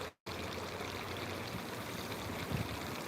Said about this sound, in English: The water flows.